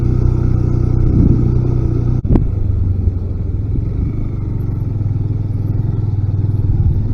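A motorcycle climbs a steep dirt mountain road, its engine holding a steady low rumble close by with a brief clatter partway through.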